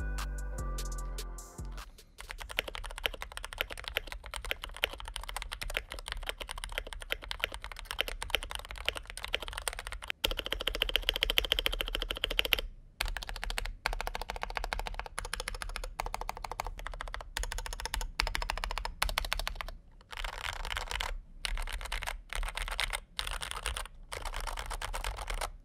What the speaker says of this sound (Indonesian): berikut adalah sound test terakhir dari seluruh modifikasi tadi